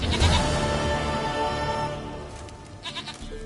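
A goat in The Witcher 3: Wild Hunt gives a loud, drawn-out bleat, wavering and fading over a couple of seconds, followed by a few quieter game sounds.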